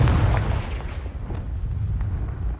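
A Confringo fire spell explodes in Hogwarts Legacy on PS5, a loud, dense rumbling blast with a few crackling pops inside it, close and continuous for a couple of seconds.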